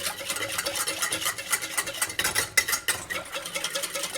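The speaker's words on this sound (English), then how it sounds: "So now I'm just going to whisk it in." Whisk scraping and clinking rhythmically against a pot while hot milk is stirred into melted chocolate, close and brisk with metallic ticks and no talk.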